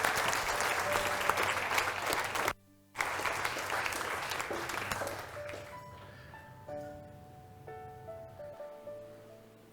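A church congregation at a resurrection Sunday service gives a hearty clap offering, loud sustained applause with a brief pause, then thinning into scattered claps as organ or keyboard tones ring through.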